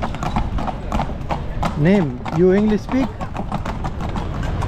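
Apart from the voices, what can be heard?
horse-drawn carriage hooves clip-clopping in Marrakech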